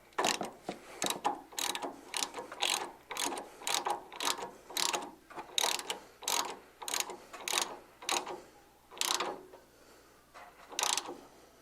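A hand ratchet tightens AGR Performance steering parts on a Ford Mustang in rapid bursts of crisp clicking. The repeated pulls come close and loud, with short pauses between them and no talking.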